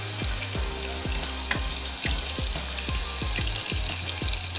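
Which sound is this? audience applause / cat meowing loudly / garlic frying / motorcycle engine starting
garlic frying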